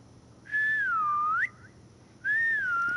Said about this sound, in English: Why are you whistling at a time like this?